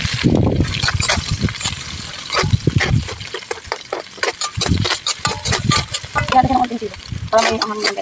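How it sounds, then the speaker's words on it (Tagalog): Garlic frying in oil in a pan while cooking pork paksiw, with close sizzling and crackling broken up by repeated stirring and scraping of a utensil, no talking. "Lagyan natin ulit ng mantika guys. Tapos lagyan na natin ito bawang."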